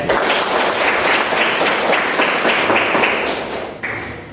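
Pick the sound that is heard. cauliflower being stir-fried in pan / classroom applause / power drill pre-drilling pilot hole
classroom applause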